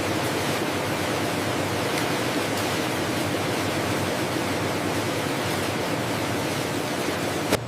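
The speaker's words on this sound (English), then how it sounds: "A ferocious hissing of steam as water evaporates instantly" Steam hisses loudly and continuously in a potato chip factory fryer, a dense broadband roar with no pauses, close and unbroken throughout.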